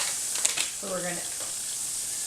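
Stuffed pepper filling fries in a pan as Southwest spice blend is stirred in, giving a faint, steady sizzle with a short scraping stir in the middle.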